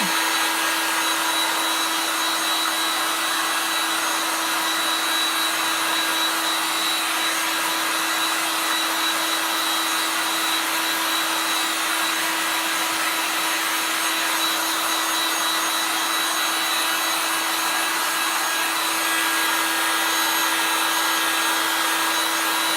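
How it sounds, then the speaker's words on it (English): A heat tool gun set to medium heat, drying a thick coat of paint on small figures: a steady, loud, unbroken blowing whoosh with a fan whine that runs the whole time, with no talk. "I'm going to turn down my high heat tool gun here just to like a medium heat."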